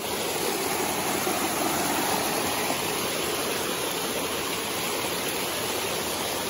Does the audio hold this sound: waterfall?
yes